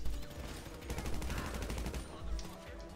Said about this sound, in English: Guys on the left shooting.